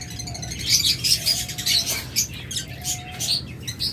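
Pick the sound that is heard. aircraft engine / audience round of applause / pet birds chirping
pet birds chirping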